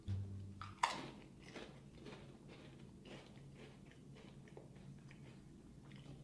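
Someone bites into a sour cream and cheddar Pringles chip with one sharp, close crunch, then keeps chewing in soft, rhythmic crackles that fade to quiet munching.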